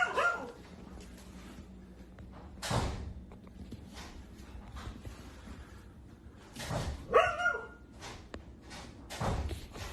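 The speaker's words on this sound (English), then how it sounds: "Their dog was scared and barking very loudly." A frightened dog in an apartment barks loudly in several sharp, separate bursts, with quieter rumbling and knocking noises between them.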